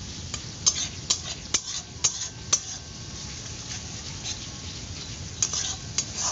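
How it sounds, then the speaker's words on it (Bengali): Ginger and garlic fry quietly in a pan with chopped tomatoes, a soft sizzle under repeated sharp clinks and scrapes of a spoon stirring against the metal, close and without talk. "আদা রসুনটা যখন নাকি একটু ভাজা ভাজা মতো হয়ে যাবে, তারপর এইটার উপর দিয়ে দেবো আমি 2খানা ছোট ছোট টুকরো করে কাটা টমেটো।"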